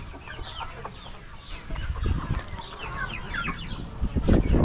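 Chickens on a farm, including new dwarf Australorp hens, cluck and chatter in overlapping short calls, close by, with shuffling and scratching noises underneath.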